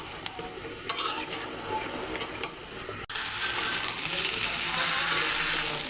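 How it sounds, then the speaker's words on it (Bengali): Duck meat is stir-fried in a pan for curry, with a spatula scraping in rhythmic strokes over a sizzle. After a brief cut the frying turns into a louder, denser hiss. "আর একটু ভালো করে কষিয়ে তারপর জল দিয়ে দেব।"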